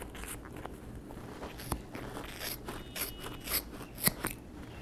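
Scissors snip through wrapped yarn while making a pom pom, several crisp cuts spaced unevenly over soft handling rustle, quiet and close.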